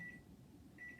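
A kitchen timer gives faint, high-pitched electronic beeps in a kitchen where eggs are being poached: one short beep, then a longer beep after a brief pause, over low background noise.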